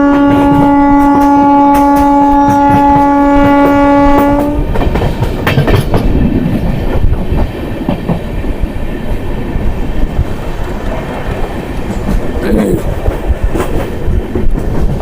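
An LHB coach passenger train on the Dehradun–Amritsar Lahori Express sounds a long steady horn blast, then rolls on with loud, continuous rail rumble and clickety-clack from on board.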